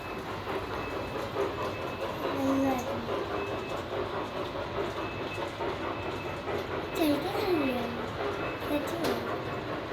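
A miniature model train runs on a layout at a miniature rail museum in Pune, giving a steady rolling clatter with brief squeals, while people talk over it.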